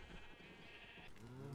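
A sheep bleats in a video game farm, a short wavering cry rising at the end over a light background hum.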